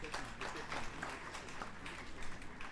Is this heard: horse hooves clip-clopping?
no